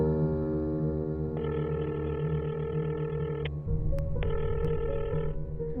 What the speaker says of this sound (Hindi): दीदी फोन नहीं उठा रही है।